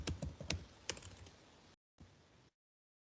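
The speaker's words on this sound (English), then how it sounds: "I'll click on the asset and I type here incident" Quick bursts of computer keyboard typing, a few crisp clicks in an irregular rhythm, close and fairly quiet, then a short pause and a softer final stretch.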